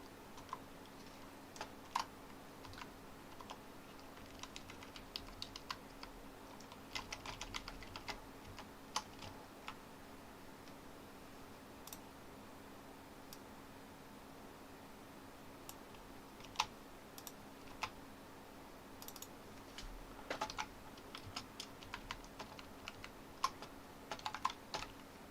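Someone types on a computer keyboard at a PC during a Sandy Bridge overclocking session. Quiet, irregular bursts of key clicks come and go over a low steady hum, with no talking.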